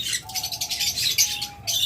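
A breeding pair of green opaline budgerigars chirps and chatters in bright, rapid bursts, close and fairly loud, with a thin whistle-like tone running underneath.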